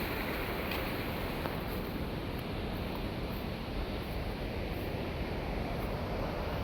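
Water from the Thenpennai river at Arasampatti roars and cascades in a continuous broadband rush, steady and fairly distant, with no voices.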